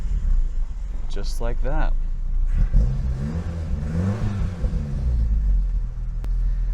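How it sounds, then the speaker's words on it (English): A 1982 Honda Prelude engine idles as a low, close rumble, rising briefly in a few revs, while someone speaks over it early on. "We have a push button starter. Let's see how she sounds."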